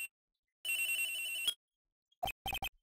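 A telephone rings in the Phoenix Wright video game: one long electronic ring, a pause, then three quick short trills, clear and alone.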